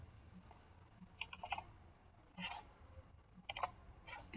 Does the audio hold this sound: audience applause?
no